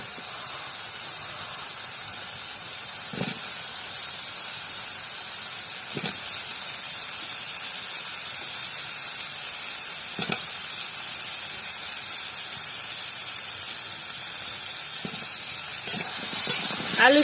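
Potatoes sizzle in a hot pan for a Bengali village-style golda chingri malaikari, a steady hiss of frying with a few soft clinks of a utensil, close and continuous without talk.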